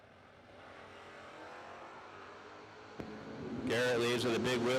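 A drag racing car launches with a wheelie at an ACE Ohio event. A low engine rumble is broken by a sharp crack, then a loud, close revving roar surges.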